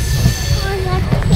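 A train rolls into Siliguri station with a low rumble and thin tonal squeal of wheels, loud and near, with faint voices in the background.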